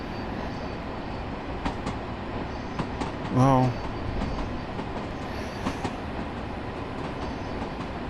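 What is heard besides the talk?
LIRR train running in Train Sim World video game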